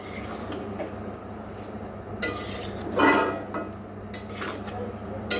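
A spoon stirs dalia in a cooking pot, scraping and clinking against the metal in a few bursts of irregular, close-up strokes over a low steady background hum.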